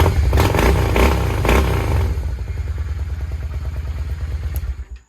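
A 1993 Honda Shadow 600 motorcycle with newly installed carburetors runs close by, revving in several blips before dropping to a lumpy, rhythmic idle that cuts off at the end, with no talking.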